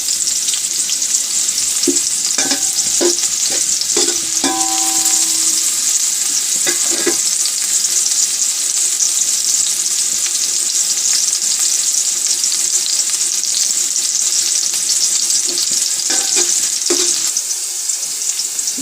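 Onions lightly frying in a pan for a mixed-vegetable dish give a steady, close sizzle throughout, with a few brief stirring clinks near the start and again near the end.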